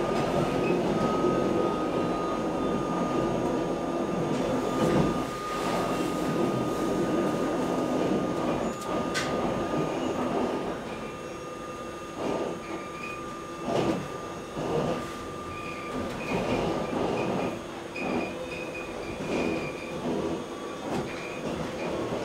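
A Wengernalp railway train rolls into Wengen station, heard from inside by a passenger: a continuous rumbling run with rail clicks, intermittent wheel squeals and clattering bumps at moderate loudness.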